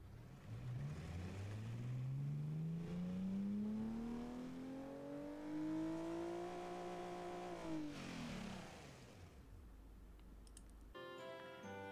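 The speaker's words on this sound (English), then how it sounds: "it's not the best sounding engine I've ever heard, and I won't pretend it is, but it sounds a lot better than that 4-cylinder" A car engine in the video game Automation revs steadily upward in pitch and then drops off, loud and alone, followed by a brief higher-pitched buzz at the end.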